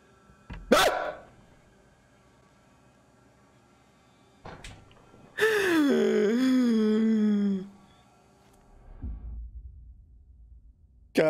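A dog barks in the horror video game Layers of Fear 2, with sharp, isolated barks and one long, drawn-out howl-like yelp between stretches of near silence and low rumbles.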